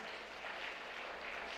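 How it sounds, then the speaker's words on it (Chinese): A congregation at a church service claps for a newlywed couple, a faint, steady wash of applause from a crowd throughout. "我们一个热烈掌声恭喜啊这对新人"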